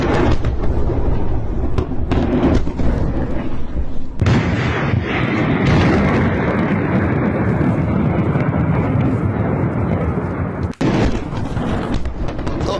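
Explosions at Latakia port in Syria during an Israeli strike: a continuous loud, heavy rumbling roar with dense booming texture, distant and sustained, broken by a couple of brief dips.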